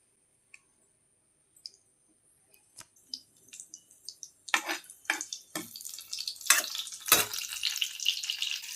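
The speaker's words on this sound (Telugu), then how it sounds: "ఆయిల్ కాగాక మనం పోపు పెట్టుకుందాం." Garlic cloves dropped into hot oil in a pan for a gongura curry tempering, starting with a few scattered clicks and then building into loud, dense sizzling bursts and crackles with no talk.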